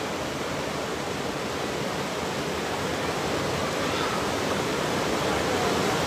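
Water rushing steadily through a drainage channel, a continuous close, fairly loud broadband roar that holds even throughout with no voices.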